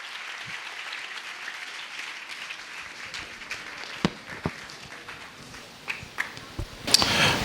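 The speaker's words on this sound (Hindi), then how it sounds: "आइए जोर से ताली बजाएंगे प्रभु के दास के लिए" Audience at a church peace festival in Raipur applauding, a soft steady patter of clapping with a few sharper, louder claps standing out near the end.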